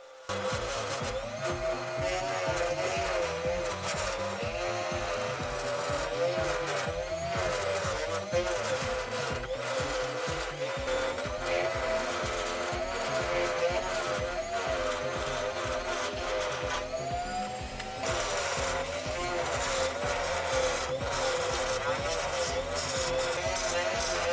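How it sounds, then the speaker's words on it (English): A milling cutter machining mirror acrylic sheet into speaker rings and covers produces a loud, continuous whining buzz with a wavering pitch that persists throughout. "I use a milling cutter for better accuracy and for faster production."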